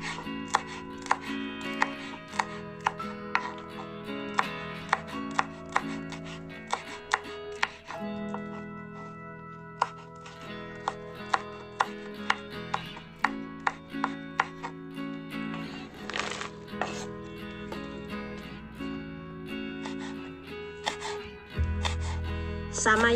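A knife chops chilies on a cutting board in a steady run of crisp, close taps, with occasional talk and faint kitchen clatter around the rhythmic chopping.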